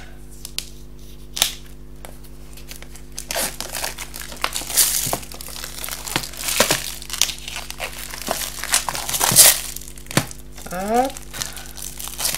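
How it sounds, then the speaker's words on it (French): Plastic packaging on a €4.99 scrapbooking item being slit with a cutter and pulled off, giving crinkling and tearing rustles in bursts, close and moderately loud, with someone talking over it. "Alors on va retirer l'emballage, comme ça vous les verrez un peu mieux"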